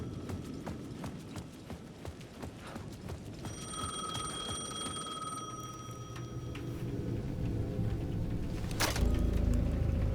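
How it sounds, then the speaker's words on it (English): A payphone rings at the edge of a plaza in Alan Wake 2, a repeated bell-like trill heard amid footsteps and ambient noise, growing into a louder rumble toward the end. "The payphone at the edge of the plaza was ringing again."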